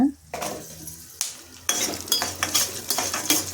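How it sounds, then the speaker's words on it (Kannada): Shallots tip into a hot pan of peanuts and chana dal frying in oil. A clatter and a burst of sizzle follow, then a spoon scrapes and clinks against the pan, loud and close, under a continuous crackle of frying. "ಈ ಹಂತದಲ್ಲಿ ನಾವು ಸಾಂಬಾರು ಈರುಳ್ಳಿನ ಸೇರಿಸೋಣ"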